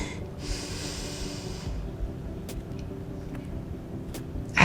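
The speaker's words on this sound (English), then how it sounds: "Breathing in." A deep diaphragmatic breath drawn in slowly through the nose during a pelvic floor and core workout, soft and close, a single long airy inhale with a faint sniff near the end.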